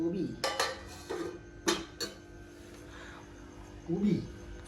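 Metal spoons clink and scrape against pots in a few sharp, scattered knocks, close by in a quiet kitchen.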